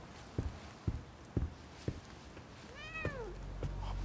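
A cat in the video game The Medium gives a single rising meow after a series of soft, evenly spaced footsteps, faint against a low ambient hum.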